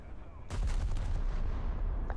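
A cruiser fires high-explosive shells at a battleship in the naval combat game War Thunder, a sudden loud boom followed by rumbling reverberation close by.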